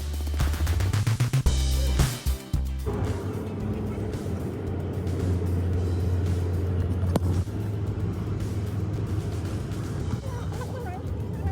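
A rental van on a long road trip toward Siem Reap in Cambodia, its interior filled with a continuous low road rumble and engine drone, with a door thump and shuffling near the start.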